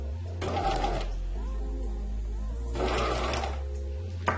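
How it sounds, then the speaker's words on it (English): A sewing machine drones steadily nearby as it stitches fabric along a curved seam, its motor hum continuous and close, with two louder bursts of whirring needle action. "And I'm stitching on my stitch line or using the guide on the machine."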